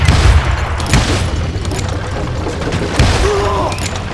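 Gunfire from Call of Juarez: Gunslinger, a few booming shots with mechanical clatter in a short burst, loud and close.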